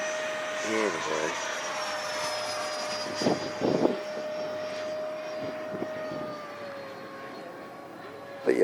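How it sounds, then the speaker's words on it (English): A Freewing T-33 Shooting Star RC electric ducted-fan jet, kit-bashed, flies over a desert RC field with a steady high whine that drifts slowly in pitch, heard at a moderate distance throughout while someone talks over it. "this is the Freewing T-33, which is a really good flying plane as it is"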